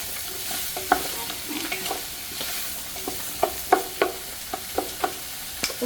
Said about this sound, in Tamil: இதையும் சாடியாக வதக்குறோங்க. வதங்கட்டும்.